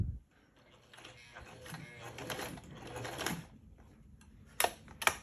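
A sewing machine stitches slowly, a soft uneven mechanical chatter of needle strokes that rises and fades, followed by a couple of sharp clicks near the end, with no talk.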